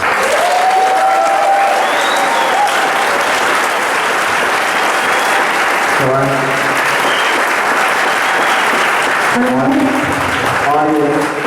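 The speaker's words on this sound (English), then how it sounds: "Audience, please refrain from applause until the meeting is over" Sustained, dense applause from a large debate audience fills the hall, loud and continuous, with cheers and voices rising through the clapping.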